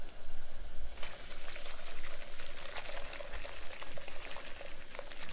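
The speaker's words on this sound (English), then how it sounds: "Let me just whisk this in." Cornmeal is whisked into a pot of boiling water for polenta, giving a soft, steady bubbling and liquid churning that stays quiet and continuous with no talking.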